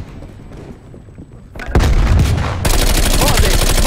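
A grenade is thrown and explodes in the Call of Duty Black Ops Cold War multiplayer video game: quieter activity, then a sudden loud blast followed by sustained heavy rumbling and gunfire.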